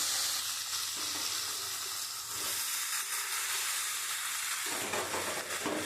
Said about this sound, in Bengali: এই পটল দিয়ে মশলাটা দিয়ে খুব ভালো করে কষিয়ে নেব